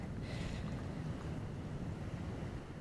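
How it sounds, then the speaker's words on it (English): Wind buffets a microphone on a windy ocean beach, a steady low roar with surf noise mixed in, continuous and fairly quiet with no voices. "Pardon the wind."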